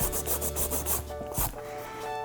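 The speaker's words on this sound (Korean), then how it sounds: "이렇게 보시면 비슷하게 나왔고 파일 들어가 볼게요." A nail file shapes a salon nail extension with quick, close, scratchy strokes in a steady rhythm, with a brief pause midway and no talking.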